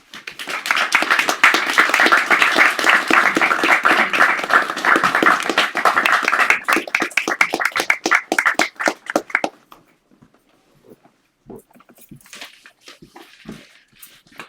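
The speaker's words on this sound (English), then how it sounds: "Let's give them another round of applause." An audience applauds after a poetry reading at a hybrid Grolier event: dense, loud clapping for about nine seconds, then a few scattered claps that trail off into quiet.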